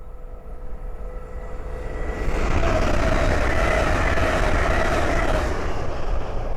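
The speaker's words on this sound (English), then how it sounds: "the next train to pass by is a Hull train 800 from Harrogate to London King's Cross" A Hull Trains Class 800 running from Harrogate to London King's Cross passes on the East Coast Main Line at Great Wymondley, its rumble swelling after two seconds into a loud, sustained rush.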